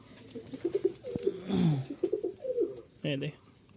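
Giribaz pigeons, kept as house pigeons in a Rajshahi flying-pigeon loft, give soft, rolling coos in short repeated bursts nearby, with a few faint chirps scattered between them.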